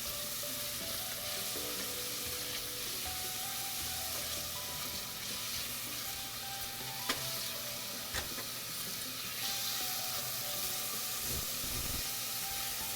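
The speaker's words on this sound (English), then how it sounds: "The sizzle sounds. Love that sound. Get all those onions off." Onions sizzle steadily in a hot frying pan, a dense continuous hiss with occasional sharp clicks and scrapes from stirring, and no talking.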